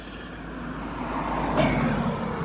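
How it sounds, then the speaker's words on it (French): Cars pass on a quiet country road, a soft roadway hum that swells as one vehicle approaches and goes by, moderately distant, with no talk. "il y a encore des voitures qui passent."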